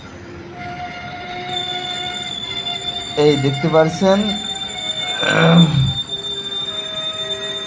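A passenger train pulls slowly out of a small morning station on the Cooch Behar to Dewanhat line, with steady rolling rumble, wheel screech and a brief horn-like tone; someone talks over it partway through.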